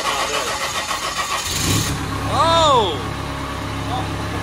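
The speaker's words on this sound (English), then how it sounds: "Little diesel." A small diesel engine in a helicopter hangar cranks, catches with a rising rev, then settles into a steady rattling idle, close and loud, with a voice exclaiming briefly.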